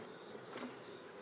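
Honey bees buzz around a hive in an apiary on a calm morning, a steady, faint insect drone, with one bee briefly swelling louder as it passes near. Nobody speaks.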